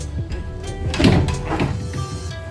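Sliding veranda doors in a Celebrity Edge cruise ship cabin glide along their track with a soft rumbling slide and a muffled thunk near the middle, close by and moderately loud in a quiet room.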